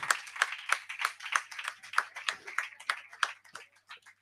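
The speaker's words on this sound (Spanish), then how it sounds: "Un fuerte aplauso para Andrea, por favor." Sparse applause from a small audience at a poetry slam in Mallorca, a handful of distinct claps in an uneven rhythm, close and moderately loud.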